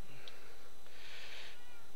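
A cat from the Minecraft video game gives a short, thin, high meow, heard alone against a steady background hum.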